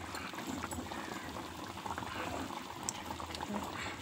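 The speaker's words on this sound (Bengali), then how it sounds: "মাছের ঝোলটা তো প্রায় হয়েই গেছে" Pabda fish curry in a mustard and poppy-seed gravy bubbles steadily in a pot, a continuous close simmering with soft pops and gurgles throughout, no talk over it.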